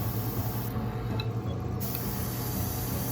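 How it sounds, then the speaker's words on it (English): A single short burst of lacquer paint sprays onto metal parts of a 1/8 scale Hawker Typhoon model, a soft airy hiss lasting about a second over faint background noise. "It's been a while since I sprayed lacquers."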